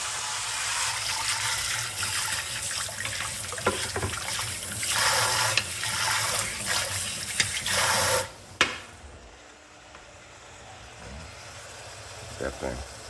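A kitchen tap runs, water splashing as something is rinsed off during baked bean prep, loud and hissy for several seconds before stopping abruptly, followed by quieter room sound.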